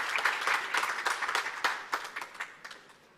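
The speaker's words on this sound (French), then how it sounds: "Sous vos applaudissements, s'il vous plaît, pour le sujet gouvernance et institutions" A conference audience applauds a speaker on African governance and institutions with brisk, fairly close clapping that starts full and gradually thins and fades toward the end.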